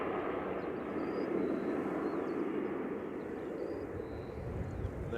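A De Havilland Dash 8 turboprop airliner departing Manchester Airport, a steady broadband roar of engines that holds loud and even throughout, heard at a moderate distance with no talk over it.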